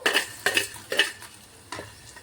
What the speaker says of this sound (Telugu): 1 టీ స్పూన్ జీలకర్ర వేసి లో ఫ్లేమ్లో పెట్టుకొని దోరగా వేగనివ్వాలి.